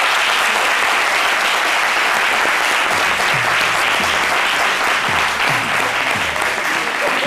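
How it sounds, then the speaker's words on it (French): Sustained applause from an audience at a fashion show greeting a designer's collection, loud and steady throughout, with voices calling out faintly beneath the clapping. "Quelques ovations."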